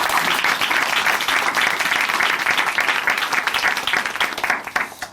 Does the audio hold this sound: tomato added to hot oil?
no